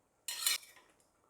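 Chicken pieces being turned over in a cooking pot, a short scraping clatter of a spoon against the pot that fades into softer stirring sounds, with no talk.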